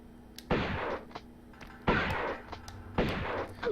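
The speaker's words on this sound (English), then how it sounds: "Let's shotgun him." Three loud shotgun blasts ring out in the Tomb Raider video game, each a sharp boom with a short decaying tail, spaced about a second apart over faint background ambience.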